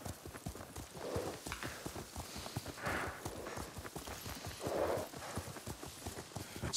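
Horse hooves clip-clop in a steady trotting rhythm while riding in the video game Ghost of Tsushima, fairly faint and even, with muffled voices passing in the background.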